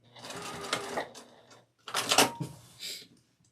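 Sewing machine back stitching across quilt binding on a beginner scrap placemat, two short close bursts of rapid mechanical stitching separated by a brief pause.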